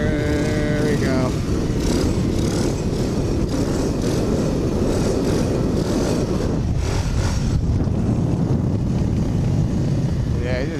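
A pit bike engine runs steadily as the rider moves through first and second gears and coasts, a loud continuous drone that holds throughout. Someone talks faintly in the background.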